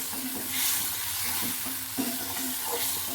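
Ground spice paste is frying in a pan over fried onions, giving a close, steady sizzle with repeated scraping stirs of a spoon, no voices.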